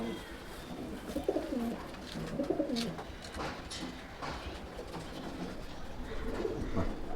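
A female Chatiyal pigeon of Tapan Saha bloodline coos in soft, repeated low phrases, close by, over a steady background murmur.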